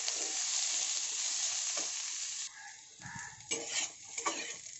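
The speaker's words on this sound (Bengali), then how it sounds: "এবার এটাকে একটু ভালো করে ভেজে নেব এই ফোড়নের মধ্যে।" Potato and vegetable stalks frying in tempering spices in a pan give a steady close sizzle, which drops quieter halfway through, with occasional stirring scrapes and clinks.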